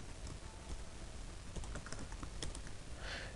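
Steady computer keyboard typing, a fairly close run of quick key clicks with irregular rhythm and a few sharper strokes, heard alone without voices.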